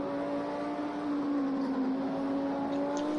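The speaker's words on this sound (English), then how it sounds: "you just listen to the engines and how different they sound" GT3 race car engines at Dubai whine steadily at high revs, a continuous droning roar with a sustained pitch that drifts slightly, heard alone and fairly loud.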